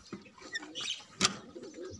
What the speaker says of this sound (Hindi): ये खा रहे हैं अभी तो मेरे साथ कबूतर सारे